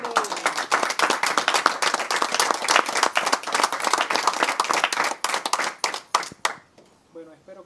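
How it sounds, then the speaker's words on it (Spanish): Church congregation clapping in a dense burst of applause that gradually thins into scattered claps and fades out, with a voice speaking briefly at the end. "Denle un aplauso."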